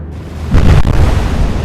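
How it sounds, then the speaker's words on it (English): Naval shell explosions in the warship game Atlantic Fleet: a heavy, loud boom rises sharply, a second crack follows a moment later, and a low rumble carries on behind it. "1 shell hitting around A turret."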